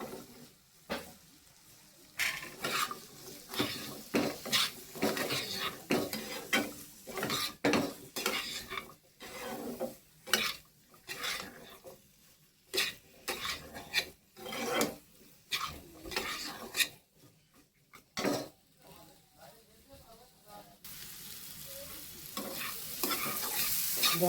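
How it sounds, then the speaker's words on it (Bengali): Boiled jackfruit seeds stir-fried with onion and dry chilli powder in a pan, a soft sizzle broken by frequent sharp scrapes and clacks of a spatula against metal, close and uneven, with no talking. "এবার আমি কাঁঠালের দানাগুলো দিয়ে দেবো, হয়ে গেছে ভাজা।"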